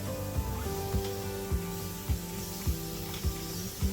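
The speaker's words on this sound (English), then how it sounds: "I'll spray the whole piece" A spray bottle mists water over a painted, stamped furniture piece, giving soft hissing spritzes in a steady rhythm of about seven quick pumps over a faint background hum.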